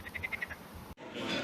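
Frogs croak in a quick series of six pulsing calls near a river under a bridge, fairly close, before a sudden cut to a louder, busier outdoor ambience.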